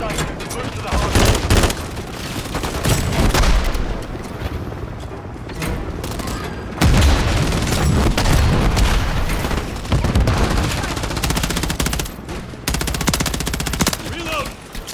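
Sustained gunfire in a military video game, with rapid machine-gun bursts and heavy booms repeating throughout, loud and close, with shouted voices in between.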